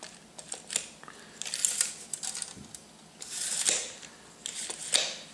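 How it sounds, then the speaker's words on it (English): A Stabila tape measure being worked, a series of close, sharp clicks and rattling snaps as the blade is pulled and the brake catches, with short quiet gaps between bursts. "The brake works. This brake works as well."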